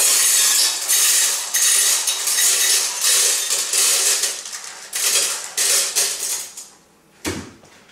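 Glass vials rattle and clink on a shovel, a run of bright jangling bursts that thin out before a final clattering tumble as they tip into a pneumatic vial crusher.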